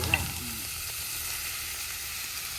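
Onions frying in a pan for Odia fish curry, a steady even sizzle with a faint clink at the start, continuous and close.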